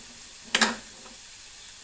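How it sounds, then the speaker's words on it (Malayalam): Onion, tomato, crushed garlic, ginger and green chilli sautéing in a pan give a faint steady hiss, broken by one short scraping stir burst partway through. "എല്ലാം ഇതിൽ ഒന്ന് വഴറ്റി നല്ലപോലെ ഒന്ന് വഴറ്റിയെടുക്കാനുണ്ട്."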